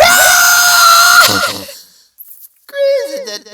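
A person imitates a woman screaming at the top of her lungs, a long, piercing, high shriek lasting over a second before trailing off, then a short strained vocal follow-up.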